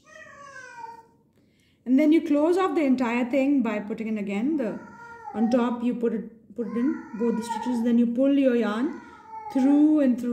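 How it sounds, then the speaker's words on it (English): A pet cat howls and yowls loudly up close, drawn-out wavering cries at a neighbour's cat out on a balcony, with a person speaking calmly between and over the cries. "That's my cat. Sorry for the disturbance."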